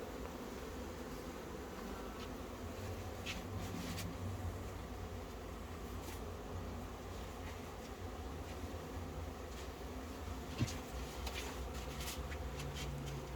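Honeybees swarm over honeycomb frames at a beekeeper's apiary, producing a steady, dense buzzing hum that runs throughout, with faint clicks and a sharp knock near the end, and no talking.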